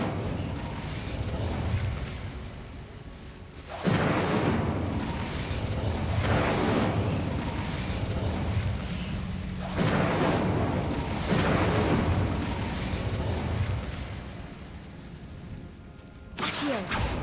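Fiery Incendio spell blasts from Hogwarts Legacy, several loud whooshing bursts with booming tails recurring every few seconds over continuous game noise, ending in a sharp final burst.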